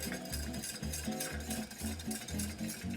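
A whisk stirs a smooth, lump-free butter sauce in a pan, with steady rhythmic scraping strokes repeating about three or four times a second, close up and fairly quiet, with no talking.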